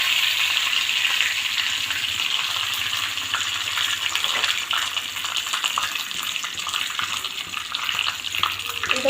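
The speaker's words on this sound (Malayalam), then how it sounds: "വെളിച്ചെണ്ണയിൽ കടുക് ഇട്ടുക. നമുക്ക് കറിവേപ്പിൻ്റെ ഇല ഇട്ട് കൊടുക്കാം." Mustard seeds and curry leaves frying in hot coconut oil, a loud continuous sizzling and crackling with scattered pops, close and steady throughout.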